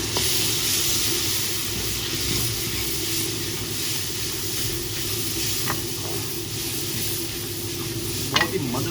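Tomatoes and green chilies fry in a pan with ginger garlic paste, giving a steady, close sizzle and hiss with occasional stirring clinks, as mutton gravy for bhindi gosht gets under way.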